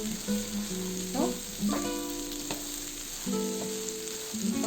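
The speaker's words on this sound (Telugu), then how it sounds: "ఒక 5 నిమిషాలు బాగా ఫ్రై చేసుకున్నాము." Shredded cabbage with moong dal fries in a pan, a moderate steady sizzle with intermittent stirring scrapes at irregular intervals and no talking.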